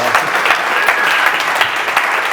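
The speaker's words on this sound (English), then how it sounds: "Give them a big round of applause," An audience at a business mastermind event breaks into a loud, sustained round of applause, dense clapping filling the whole stretch with no talk over it.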